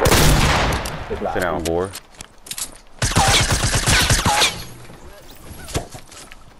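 Pistol gunfire in a video game, bursts of sharp rapid shots at close range mixed with loud shouting voices talking over the action.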